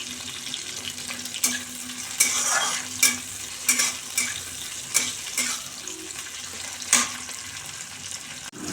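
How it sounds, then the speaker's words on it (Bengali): Chopped tomatoes sizzle in oil tempered with bay leaf and whole garam masala, as a spoon scrapes and stirs them in regular, fairly loud strokes over a continuous fry. "ফোড়ন এসে গেছে, এবার এখানে কেটে রেখেছি টমেটোগুলো দিয়ে দেব।"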